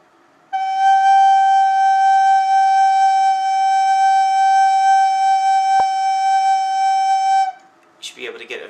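A beginner's recorder holds one steady, clear tone for about seven seconds, blown with slow, warm breath. The note is bright with stacked overtones, loud and alone, and a short rustle follows.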